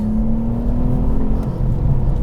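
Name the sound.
Nissan Stagea M35 engine accelerating after a gear change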